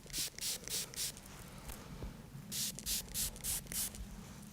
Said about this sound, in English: So we'll take the spray bottle, okay, and I'm just going to start by spraying like so.